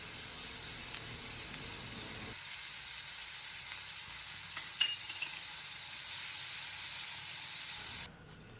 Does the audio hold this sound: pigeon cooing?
no